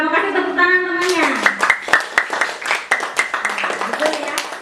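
Classmates in an Indonesian school lesson clap for a drama group, a dense run of close hand claps starting after a voice, with talk continuing over the clapping.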